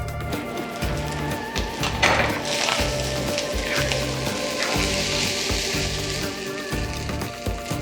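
Glutinous rice stir-fried in a pan, crackling and sizzling steadily while a spatula scrapes and stirs in a regular rhythm close by.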